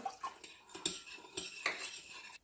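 A spoon scrapes and clinks against a bowl or pot, stirring a mixture of brown sugar and water in a few quick, irregular strokes, close and fairly loud with no talking.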